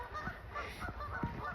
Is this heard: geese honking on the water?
yes